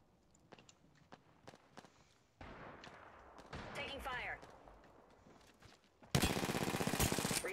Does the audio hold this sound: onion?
no